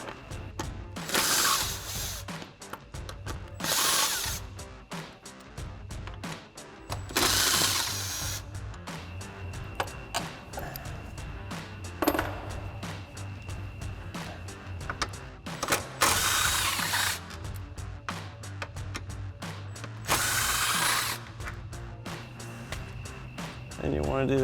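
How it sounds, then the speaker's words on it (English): An impact wrench fitted with a 12mm socket pulls factory bolts during a side step bar install on a 2024 Toyota Tacoma, firing in several loud rattling bursts separated by pauses, close up, with someone talking between them. "we'll grab our 12mm socket on our impact and go ahead and pull all these bolts"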